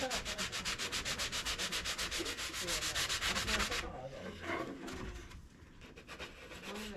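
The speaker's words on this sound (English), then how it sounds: "Take your sanding sponge and go like follows." A sanding sponge rubs a dirty grand piano key in quick, even back-and-forth strokes, loud and close for several seconds before fading to softer, irregular rubbing.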